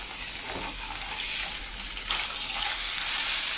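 Mackerel fish fries in a frying pan with a loud, dense sizzle that swells noticeably as the fish is flipped partway through, with no talking.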